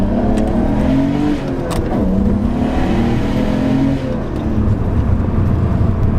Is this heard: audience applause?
no